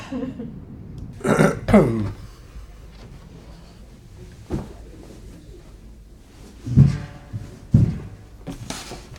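Two loud, guttural belches close together near the start, then another pair later, with quiet room noise in between.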